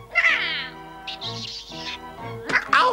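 A cartoon cat in a Smurfs episode meows and caterwauls in several drawn-out, wavering cries, close and loud, with a shrill rising yowl at the end; it sounds like a voice actor performing the cat.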